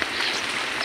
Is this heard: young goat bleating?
no